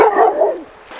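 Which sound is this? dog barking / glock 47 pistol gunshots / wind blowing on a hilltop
dog barking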